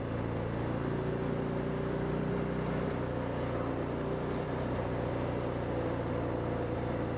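A Harley-Davidson Fat Bob 114 motorcycle engine runs at high revs near redline in second gear, a steady loud rumbling drone with low harmonic bands throughout, no talking over it.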